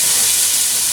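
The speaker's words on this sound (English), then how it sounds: "you throw in those onions and you hear that sizzle" Onions dropped into hot olive oil in a pan for soup, giving a loud, steady broadband sizzle close by, continuous with no breaks.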